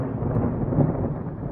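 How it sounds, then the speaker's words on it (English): A low, rumbling roll of thunder from a September thunderstorm with lightning, heard briefly and alone. "This is one of those thunderstorms that I think I just caught a few lightning bolts on camera."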